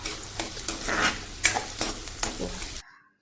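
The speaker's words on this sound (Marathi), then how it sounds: "कांदासुद्धा छानपैकी आपल्याला मऊसूत होईपर्यंत फ्राय करायचं" Chopped onion fries in a pan for a Konkani-style crab curry, a close sizzle broken by several sharp scraping stirs of a spoon, then cutting off abruptly into silence near the end.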